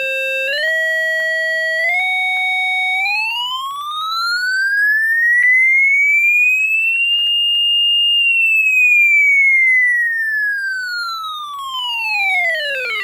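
An NPN transistor oscillator circuit sounds a loud, pure electronic tone that steps upward in a few jumps, then glides smoothly higher and slides back down again, like a slow siren sweep.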